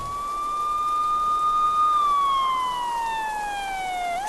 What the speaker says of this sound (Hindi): पुलिस की सायरन की आवाज आती है।